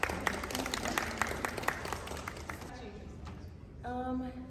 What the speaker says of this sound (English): let's give a round of applause for these three ladies